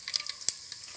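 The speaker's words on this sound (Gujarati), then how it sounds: "આ બધો મસાલો નાખી અને વઘાર બનાવવાનો છે।" Spices and curry leaves crackling in hot oil for a tempering, a faint brief sizzle with a few sharp pops, quiet and close.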